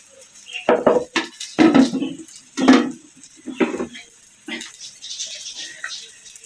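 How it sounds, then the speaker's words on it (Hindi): Chopped eggplant going into a dish for baingan raita, heard as a series of clattering knocks and scrapes of pieces against a pot or bowl, irregular and close. "ये मैंने बैंगन डाल दिए"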